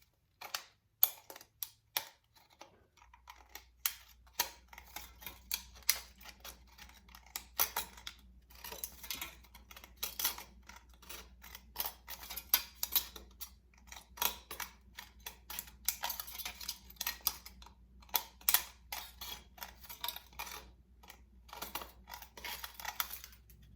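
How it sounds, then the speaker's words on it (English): Scissors snip through a thin aluminium drink can along a marked line while making a can flower craft, giving a long run of sharp close metallic clicks and crunches at an irregular pace, with no talking. "now you use the scissor to cut the line and cut this way"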